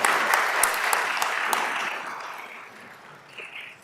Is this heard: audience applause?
yes